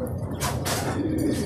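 Racing pigeons cooing in a loft, a low throaty burble close by with a brief higher rustle in the middle.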